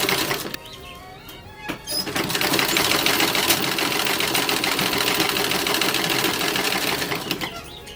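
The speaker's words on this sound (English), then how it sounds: "now that we're done with the sleeves, we can stitch those right in" A sewing machine stitches sleeves into a 1930s–40s style toddler dress bodice, a close, busy mechanical clatter that starts after a couple of brief ticks and then runs steadily for several seconds.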